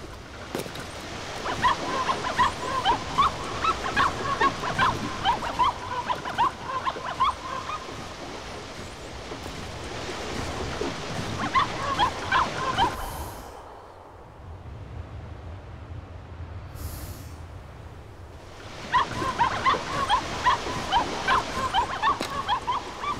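A dog in the video game The Cave yelps and whimpers in repeated high cries over a steady game soundscape, dropping out briefly midway before returning.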